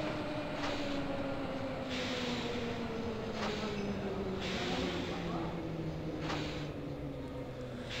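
A Berlin U-Bahn U2 train in Microsoft Train Simulator hums steadily along the track, its motor pitch sliding gradually downward as it runs, with intermittent bursts of wheel and rail noise under a constant rumble.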